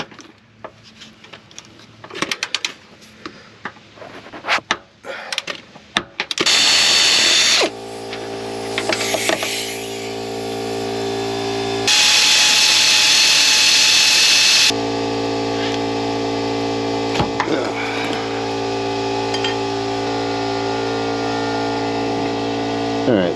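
Power tool with a 16mm socket breaking loose the sway bar bushing bolts on an SUV: clanks and handling noises, then two loud sustained bursts of tool whir and buzz, with a lower mechanical hum between them.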